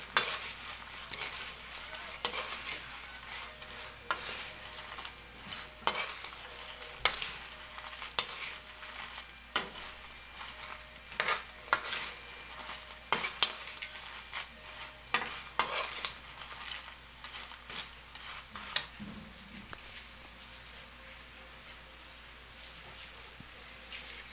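Small crabs (talangka) sizzling and frying in a pan as a utensil stirs them, with repeated sharp scrapes and clinks against the metal over a steady hiss, close but fairly soft.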